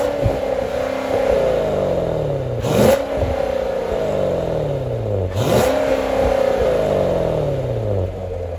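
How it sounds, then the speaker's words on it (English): A C7 Corvette revs its exhaust twice, each blip rising sharply then falling away in a long descending drone, with a steady idle rumble between and after; loud and close, no voices. "Speaking of exhaust, here are some clips of what that sounds like on this car."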